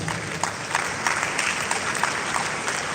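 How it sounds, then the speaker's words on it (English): Steady applause from a crowd, dense clapping that keeps up evenly throughout without voices standing out. "please give yourselves a round of applause."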